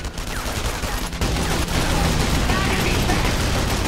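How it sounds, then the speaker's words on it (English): A flak cannon fires in the video game Enemy Front in rapid, loud, continuous bursts, with a voice heard intermittently beneath the barrage. "Hawkins, get on the flak cannon!"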